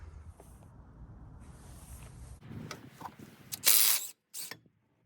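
A ratchet loosens the brake caliper bolts on a Nissan Murano during a wheel bearing and hub replacement. Quiet clicking builds into a few louder metallic rattles and clanks close by, then stops abruptly.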